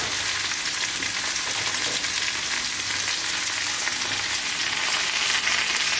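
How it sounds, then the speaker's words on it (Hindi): A pinch of asafoetida and cumin seeds sizzle in hot oil while a mixed-vegetable tawa sabzi is being cooked, giving a dense, even crackle of frying that holds steady and close throughout, with no talk. "अब मैं इसमें हींग डाल दी 1 पिंच, जीरा डाल रहे हैं इसमें 2 मिनट"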